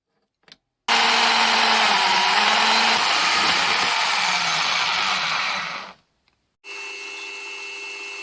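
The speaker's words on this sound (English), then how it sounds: "2 flanges are cut from flat stock." A power tool cuts flanges from flat metal stock for a centring microscope build. It gives a loud, steady broadband whine that runs for about five seconds, stops abruptly, and is followed by a quieter tonal hum.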